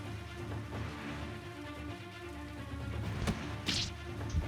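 Rain falls steadily in the video game Crawl Tactics, a soft continuous patter with a few brief whooshing game effects near the end.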